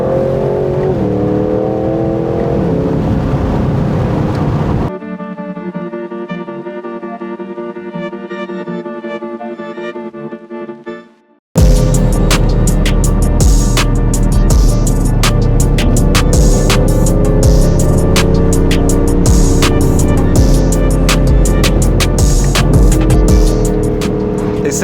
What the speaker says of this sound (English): This is the new Aston Martin Vantage Roadster,